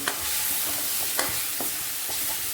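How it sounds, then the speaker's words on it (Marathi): Onion-tomato masala sautéing in oil for mutton, a dense steady sizzle with a few spatula scrapes and stirs, close and fairly loud. "आता छान असं मसाल्याला तेल सुटेपर्यंत परतून घ्यायचं"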